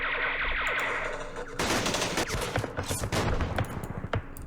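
Gunfire from units in the Vietnam war game Campaign Series Vietnam, set at the Battle of Khe Sanh Village in 1968: rapid volleys of loud shots that crackle and echo, getting denser partway through.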